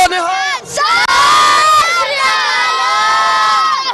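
A large Sikh crowd at a Vaisakhi Nagar Kirtan procession in Derby roars the Jaikara war cry in unison, a loud, sustained massed shout with a brief dip before surging again, close and dense with many voices.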